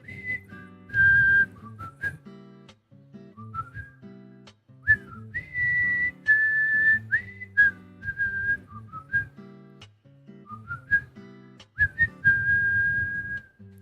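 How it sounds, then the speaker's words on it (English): A person whistles the Deadly Premonition theme song: a bright, close melody of held notes and quick little slides, broken by brief pauses. "Deadly Premonition whistle. I love this song so much."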